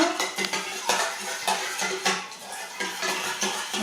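Soap and oil being stirred together in a bowl, with repeated clinking, scraping strokes of a utensil against the bowl in an irregular rhythm, close and fairly loud with no talking.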